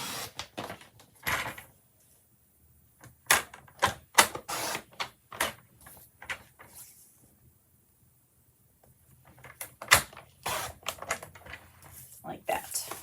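A paper trimmer slices cardstock into four pieces for a stacked rectangles card, giving sharp clacks and swishes in scattered clusters with quiet gaps, close by, mixed with brief speech.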